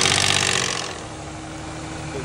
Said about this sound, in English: I was able to start the vehicle